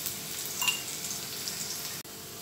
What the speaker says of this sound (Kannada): ಇವಾಗ ಎಣ್ಣೆ ಕಾದಿದೆ ನಾನು ಜಜ್ಜಿ ಇಟ್ಕೊಂಡಿರುವ ಬೆಳ್ಳುಳ್ಳಿ ಹಾಕ್ತಾಯಿದ್ದೀನಿ